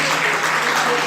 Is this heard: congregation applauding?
yes